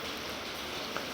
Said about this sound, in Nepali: बहुत ठुल्ठुलो पानी परेको छ